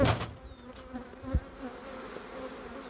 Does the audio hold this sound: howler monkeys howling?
no